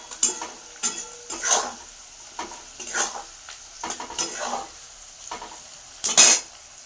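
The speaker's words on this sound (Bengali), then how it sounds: "পেঁয়াজটা একটু ভাজা হচ্ছে" Onions being stirred in a pan, a spoon scraping and clinking against the metal at irregular intervals over a faint sizzle, close and alone.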